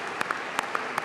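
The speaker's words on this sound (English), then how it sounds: "Let me clap." Several sharp, separate hand claps ring out close by, irregularly spaced over a low room hiss, with no voices.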